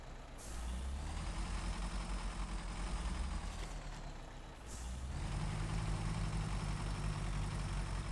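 Bandit truck engine in Snowrunner's Scandinavia region, a steady loud diesel drone that dips briefly, then rises to a heavier revving roar, with a hiss of air brakes near the start and middle.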